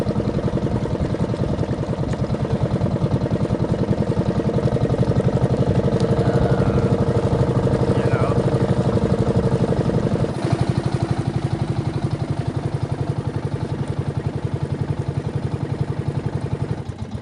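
A fishing boat's engine runs steadily at close range, a constant low throbbing drone with a vibrating, rattling texture throughout and no pauses.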